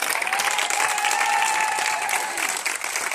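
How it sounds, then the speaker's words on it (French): Church congregation applauding and cheering for Jesus, dense continuous clapping from a crowd with a sustained vocal cheer running through it. "Est-ce qu'on peut acclamer Jésus?"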